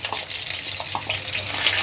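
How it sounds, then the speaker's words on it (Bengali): Whole spices such as bay leaf, cinnamon, cardamom and cloves fry with chopped onion in oil, giving a loud, close hiss with a few scattered pops and stirring scrapes, with no voices. "গোটা মশলাগুলো কিছুক্ষণ এভাবে পেঁয়াজের সাথে ভাজার পরে"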